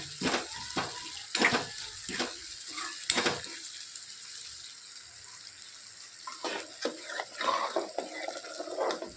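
Onions and tomatoes fry in a pan on a gas stove, giving a steady sizzle broken by clattering stirs and scrapes of a spoon, close up with no talking.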